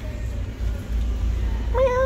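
A black and white cat in a pet store lets out one short meow near the end, after a stretch of low background hum and store noise.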